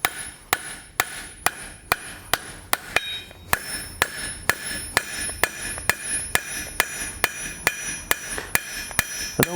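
A blacksmith hammers a hot iron toaster handle flat on an anvil: a steady run of about twenty sharp, ringing metallic blows at an even rhythm, close and loud, with no talk.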